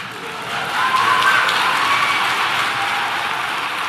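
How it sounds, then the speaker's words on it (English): An audience at a debate on atheism and morality breaks into applause, a broad wash of clapping that swells quickly and holds steady before easing slightly. "You're clapping for that? Really?"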